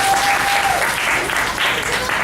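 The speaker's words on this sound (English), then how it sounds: "one of the reasons I do this kind of applause is from up here it looks really cool with everybody doing that" An audience gives steady, dense applause after a told Iroquois story, the clapping loud and close and continuing without a break for a couple of seconds.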